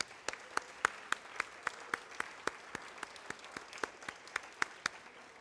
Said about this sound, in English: giving the jazz band a large round of applause for the music that they've been playing